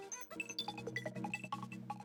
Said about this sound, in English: And then there's these little cups, which actually sound like this.